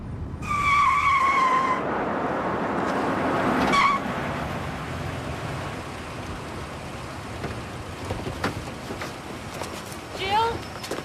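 Car tires screech briefly at the start over rain-like noise, followed by a low, steady rumble of vehicles and movement with voices in the background.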